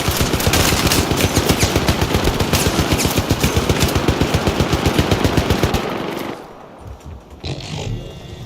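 Rapid, loud bursts of turret gunfire fill the Syndicate co-op match on Xbox 360 for about six seconds with a steady stuttering rhythm, then cut out abruptly, leaving quieter scattered game sounds.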